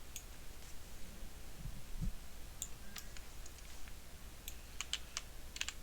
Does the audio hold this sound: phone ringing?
no